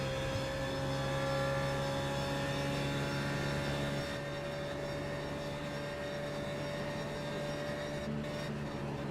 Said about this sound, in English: Almost sounded like he was on the rev limiter. That was really weird sounding.